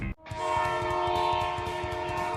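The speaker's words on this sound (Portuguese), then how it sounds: "vê um trem se aproximando" A train approaches a chasm, its horn blaring loud and sustained over a deep rolling rumble that builds right after a brief opening thump.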